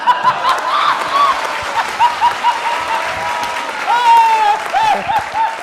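An audience at a comedic political show claps in uneven bursts mixed with chuckles and crowd murmur, while a whistle-like tone sounds intermittently over the noise.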